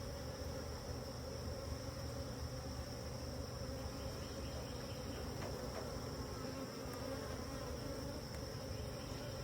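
Russian honey bees buzz continuously around a newly installed hive from a package in an apiary, a dense, steady drone that stays close and even throughout.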